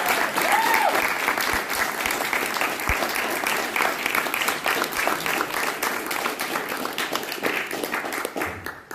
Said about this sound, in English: I was hoping I'd get an applause for that